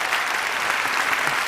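A large audience at a TED-style talk about art applauds, a dense, steady wash of many hands clapping at even loudness throughout, with no voices over it.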